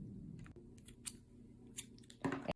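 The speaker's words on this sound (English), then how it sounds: "go ahead and cut our line right here" Scissors snip through fishing line up close with a few quiet, crisp cuts and a sharper final clip near the end, against a low background hum, with no talking.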